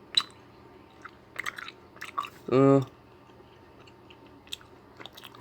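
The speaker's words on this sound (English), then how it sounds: "I'm just chewing a piece of gum" Soft, wet chewing of a piece of gum sounds close to the microphone in scattered small clicks and squishes, with a brief spoken word partway through.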